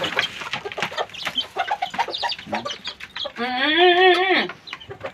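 Bantam chickens cluck and chatter close by in a busy run of short calls, ending in a longer drawn-out squawk.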